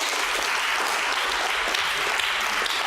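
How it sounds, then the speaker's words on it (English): Round of applause at a leadership and business summit, a dense, steady crowd clapping that stays loud and even throughout, without any voices. "So guys, give a round of applause."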